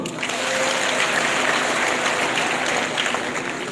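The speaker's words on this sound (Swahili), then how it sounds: "Hebu wapigie makofi." A hall audience at a county scholarship award event bursts into sustained, dense applause, loud and even for several seconds without a break.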